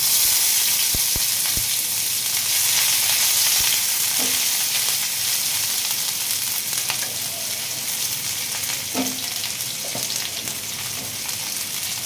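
Chopped onion frying in hot oil with cumin seeds and a dried chili, a loud continuous sizzle close by, with occasional light taps and stirring scrapes and no talking.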